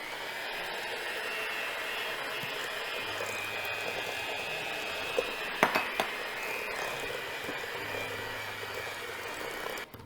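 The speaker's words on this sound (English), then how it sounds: "And now we'll slowly add in our dry ingredients to our mixture." Dry ingredients being mixed into cookie dough for holiday cookies: a steady, continuous whirring drone fills the whole stretch, with a few sharp clinks against the bowl partway through.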